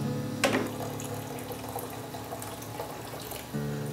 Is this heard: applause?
no